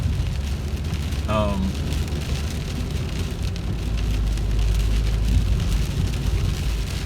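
Heavy rain pounds steadily on a car during a drive on a city street, with constant hiss and road rumble filling the cabin; a brief tonal chirp sounds early on.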